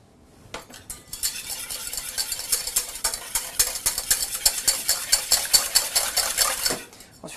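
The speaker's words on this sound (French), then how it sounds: "On utilise le fouet pour commencer à les mélanger." Two eggs for a quinoa-flake omelette whisked in a bowl with a wire whisk, a long run of fast, rhythmic metallic clinking and scraping that builds steadily and then stops, close and clear with no talking.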